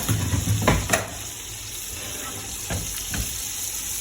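Steak frying in butter with thyme in a hot pan: a close, continuous sizzle with a few brief bursts of spattering and scraping, heard alone for a few seconds.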